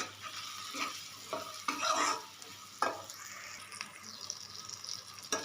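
Chana masala roasting in a pan, soft sizzling under intermittent scraping stir strokes, quiet and close, no one talking.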